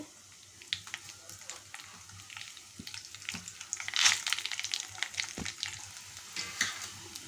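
Garlic and dried red chillies sizzle and fry in a pan, with a steady crackling hiss and scattered sharp pops throughout, growing busier midway with brief stirring scrapes.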